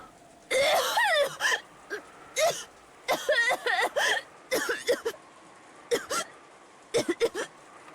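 A female character in the Umineko visual novel game coughs in repeated voiced bursts, some harsh and some whimpering, alone against a quiet background.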